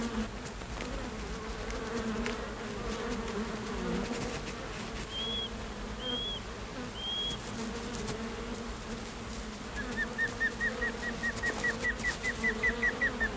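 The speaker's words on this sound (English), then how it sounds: "Female sand wasps excavate 5-inch deep tunnels where they lay a single egg." Female sand wasps buzz over rainforest sand amid a steady insect drone, with a few faint bird chirps and a rapid rising run of calls near the end, all distant and soft, with no voices.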